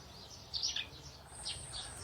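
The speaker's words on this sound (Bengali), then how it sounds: "পাখির শব্দ ছাড়া আর কিছুই শোনা যাচ্ছে না।" Birds call in a shaded mangrove forest at Taki Golpata, with faint, scattered high chirps rising twice over a quiet background.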